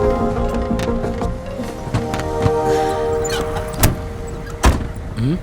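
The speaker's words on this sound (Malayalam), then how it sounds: "എല്ലാരും വന്ന് ജീപ്പ് കയറി കേട്ടോ." Jeep readied for an off-road ride to a camp, with a low idling engine and a couple of sharp door thumps and clunks nearby as people climb in, and no clear talk.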